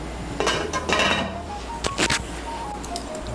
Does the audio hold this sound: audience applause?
no